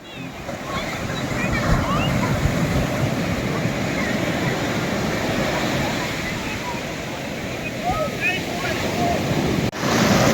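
Sea surf rolling onto the beach at Puri, just past the Marine Drive road, a steady broad roar of breaking waves with wind buffeting the microphone throughout.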